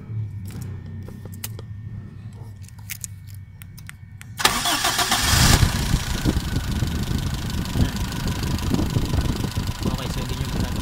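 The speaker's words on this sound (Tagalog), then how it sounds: "Okay, so start natin yung makina." A car engine cranks and starts partway through, then settles into a loud, steady rumbling idle after quieter clicking and handling sounds, during high tension wire testing with a spark plug tester.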